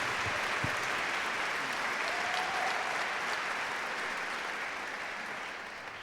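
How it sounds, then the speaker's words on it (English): A live event audience at a Failure:Lab evening in Grand Rapids applauds the sponsors with a continuous wash of clapping that stays even, then tapers slightly toward the end, with a faint brief voice in the middle. "Let's give them all a round of applause."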